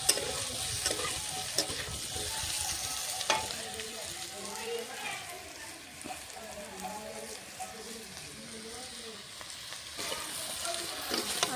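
Potato pieces fry in a pan for a vegetarian potato and broccoli dish, a steady crackling sizzle with stirring scrapes, occasional sharper clicks and faint background voice-like murmur throughout.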